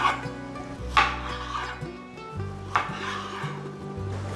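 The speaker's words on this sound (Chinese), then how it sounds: "把番茄切成小丁。" A knife dices tomato on a small wooden cutting board with a grooved edge. A few soft, dull chops come at irregular intervals, close and fairly quiet, with a low hum underneath.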